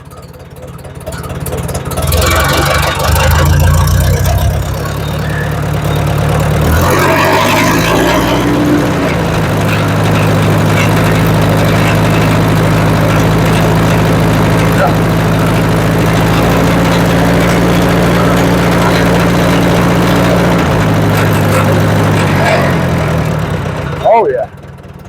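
A tractor engine with a newly fitted muffler revs up loudly, then settles into a steady, deep, even idle for a long stretch before cutting off near the end.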